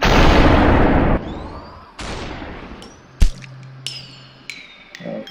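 Slowed-down gunfire in Superhot: a long booming blast that decays and then recurs, followed by a sharp single shot and scattered metallic taps and pings, loud and close with no talking.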